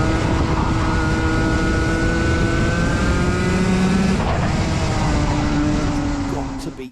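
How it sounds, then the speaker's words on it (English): A race car engine holds a loud, steady high-revving drone at Yas Marina circuit, close and continuous before easing off at the end, with a voice talking over it. "Let's have a listen to Sam's engine revs."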